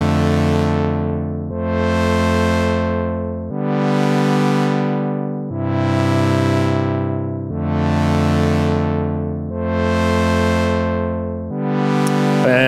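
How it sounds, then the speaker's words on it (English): Saw wave pad chords built in VCV Rack, six bright, buzzy sustained chords with rich harmonics, each changing roughly every two seconds, alone and without talk. "is just a few chords playing a saw wave pad"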